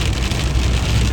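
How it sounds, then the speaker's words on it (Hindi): Heavy rain pouring down during a nighttime drive home, a dense, loud, steady hiss of drops hammering surfaces with no break. "बारिश इतनी तेज़ हो गई थी कि कुछ भी नहीं नज़र आ रहा था"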